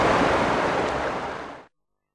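Rainwater surging and rising inside a drainage pipe in the game Heavy Rain, a loud, dense rushing wash of water that holds steady, then fades off before cutting to silence.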